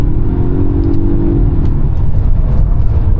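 A Polestar 1 accelerating flat out on a race track, heard from inside as a loud, steady engine and drivetrain roar with a rising whine that drops into a continuous rumble.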